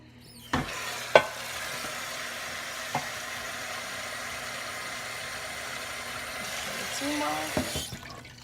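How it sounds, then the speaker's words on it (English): Water runs steadily into a rice cooker bowl for several seconds, a soft continuous splash framed by a few sharp clunks of the bowl and faucet at start and end. "So I'm just gonna put water in that."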